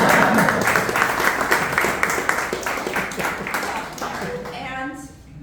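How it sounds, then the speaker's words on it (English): Applause and clapping for a guest at a Rotary group meeting fill the room as a steady, dense patter for about four seconds, then fade, with voices talking over the end. "We'll give him a round of applause."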